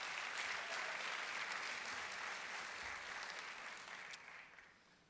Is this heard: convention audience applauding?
yes